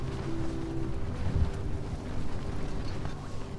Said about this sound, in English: The wind is way stronger.